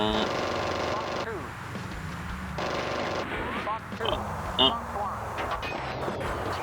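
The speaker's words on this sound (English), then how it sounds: "They're hitting us with return gunfire" Sustained machine-gun fire from enemy aircraft in the combat flight simulator Jane's Fighters Anthology, a dense continuous rattle with bursts of explosions and engine roar, loud throughout.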